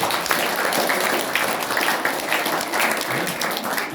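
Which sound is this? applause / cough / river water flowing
applause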